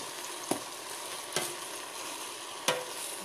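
Greens with apple cider vinegar cooking down in a pan give a steady, soft sizzle, broken by three sharp stirring knocks spaced about a second apart.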